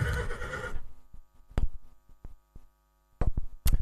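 Horse at a yearling sale giving a loud, close neigh at the start, followed by scattered hoof knocks and stamping, then sharp thumps near the end.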